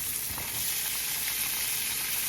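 Green peppers and onions fry in a pan with a steady, dense sizzle throughout, close and even with no speech.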